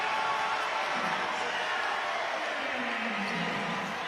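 Basketball crowd roaring in an arena during a men's college game, Montana State at Portland State: a steady, loud wall of cheering that holds for the whole stretch, with a commentator's voice faintly mixed in.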